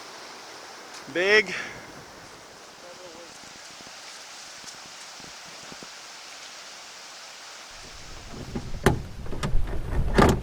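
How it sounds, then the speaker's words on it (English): Rushing water from a small falls on the Pickerel River in Quetico Park, a steady broadband wash under a man's brief speech, swelling louder near the end. "there's the little falls that we're portaging around"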